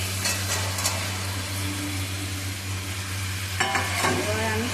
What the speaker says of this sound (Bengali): তারপর ভেজে রাখা মাংসগুলোকে আমি এখন কড়াইয়ের মধ্যে দিয়ে দিচ্ছি।